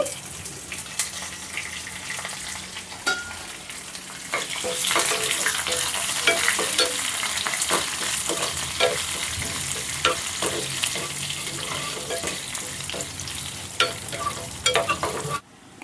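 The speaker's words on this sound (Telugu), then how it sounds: "ఆయిల్ వేడైందండి ఇప్పుడు ఇందులో కొద్దిగా పచ్చిపప్పు అలాగే కొద్దిగా ఆవాలు కొద్దిగా మినపప్పు ఒక రెండు ఎండుమిర్చి అలాగే కొద్దిగా కరివేపాకండి" Chana dal, mustard seeds, urad dal, dried red chillies and curry leaves frying in hot oil for a neer chutney tempering: a steady, loud sizzle with crackling pops and occasional spoon scrapes, no talk.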